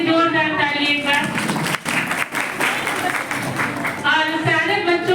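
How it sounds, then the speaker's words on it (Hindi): Loud applause for Shreya at a B.A. college farewell event, a dense burst of many hands clapping in a hall, with a voice speaking before and after it. "तो श्रेया के लिए जोरदार ताली एक बार।"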